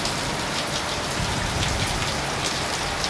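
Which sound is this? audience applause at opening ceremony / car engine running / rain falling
rain falling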